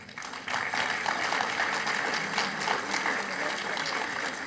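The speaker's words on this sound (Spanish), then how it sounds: "Que sea más fuerte ese aplauso" Sustained applause from a large crowd at a program launch event, a steady wash of many hands clapping that swells in and continues without pause.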